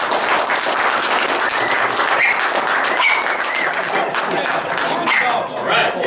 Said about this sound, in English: I want to give her a big round of applause and a big thank you.